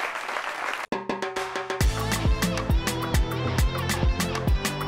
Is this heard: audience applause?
yes